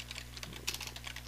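Quick, light taps on a computer keyboard while entering code, a brief burst of irregular keystrokes over a faint constant hum.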